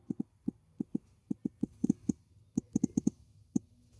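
Quick, crisp taps and clicks of typing on a phone's on-screen keyboard into a search bar, heard close in irregular bursts of about twenty strokes over four seconds, with no talking.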